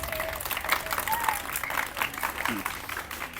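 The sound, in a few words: audience applause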